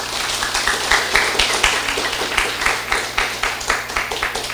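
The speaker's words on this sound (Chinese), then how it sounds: "家己鼓掌一下。" An audience at the closing ceremony of a senior administrative training class claps in a quick, rhythmic run of sharp hand claps. The applause rises and falls in small waves and continues for several seconds with no speech.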